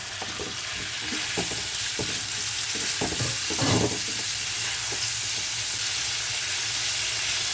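Cauliflower goes into a hot pan with ginger for a no-onion, no-garlic adraki gobi, giving a steady hissing sizzle with a burst of louder crackle and intermittent stirring knocks nearby.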